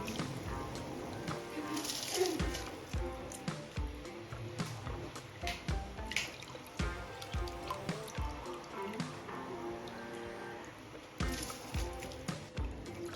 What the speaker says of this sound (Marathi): तांदूळ स्वच्छ धुवून घ्यायचा तीन ते चार पाण्याने